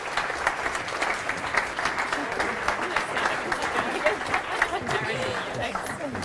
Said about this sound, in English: stand up and give a huge round of applause to Oelwang